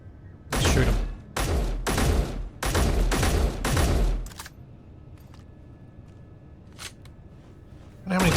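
Gunshots in a video game ring out as five loud, closely spaced blasts in a steady rhythm, followed by faint clicks and scattered light ticks, with one more shot at the very end.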